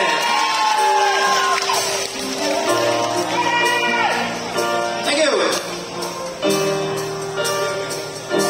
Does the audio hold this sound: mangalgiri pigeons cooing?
no